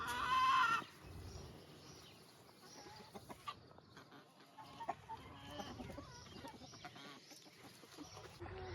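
Backyard chickens in a flock with a rooster cluck softly in short scattered bursts close by, with a louder call at the start and quiet farmyard noise between.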